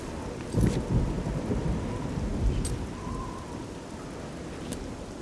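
Steady rain pattering down in the video game Oblivion, with a low roll of thunder near the start, continuous and moderately loud, no voices.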